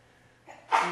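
One short, soft sneeze from a lecture audience, starting with a faint intake of breath and ending in a sudden breathy burst near the end, set against quiet room tone.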